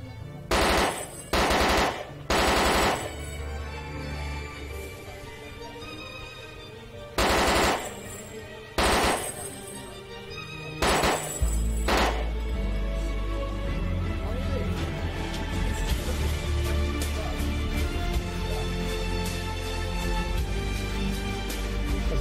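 Gunfire in the video game DayZ, a few loud bursts and separate shots in the first eleven seconds, followed by a steady engine-like drone with game sounds and players talking over it.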